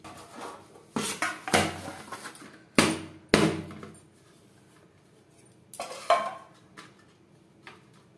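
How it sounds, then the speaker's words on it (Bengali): A knife scrapes and knocks around the sides of a baked cake in its metal pan, a run of clattering metallic scrapes and taps in uneven bursts, close and fairly loud, with no voices. "এভাবে একটা ছুরির সাহায্যে 4 সাইডটা ছাড়িয়ে নেব।"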